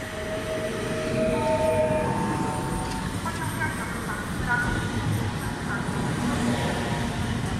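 A Sprinter passenger train pulls out of a station in Silesia with a steady rumble and rolling wheel noise, with scattered squeals and clanks over continuous platform ambience.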